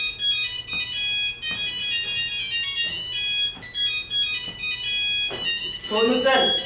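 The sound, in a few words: phone ringtone ringing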